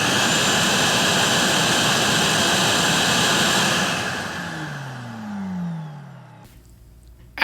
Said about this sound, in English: go get the damn shop vac so we can get this cleaned up